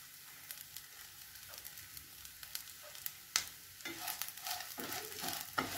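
Pirandai (adamant creeper) sautéing in a pan for chutney, a soft, fairly quiet sizzle broken by irregular stirring scrapes and clinks, with no talking.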